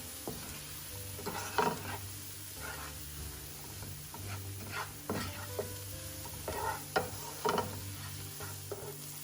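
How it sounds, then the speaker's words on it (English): Curry spice cooking in a pan for curry shrimp, stirred now and then: scraping spoon strokes over a steady low sizzle, with a few louder clanks against the pan and no talking. "Let the curry cook. Just want to make sure you mix it around."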